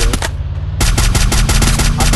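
Rapid automatic gunfire in the Free Fire battle royale game, played on PC against hackers, rattling loud and close in a dense burst, a brief pause, then another sustained volley.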